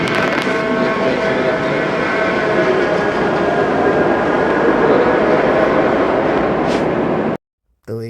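Small trains running in Hungary make a loud, continuous rolling rumble for about seven seconds before it cuts off abruptly, followed by a short burst of noise at the very end.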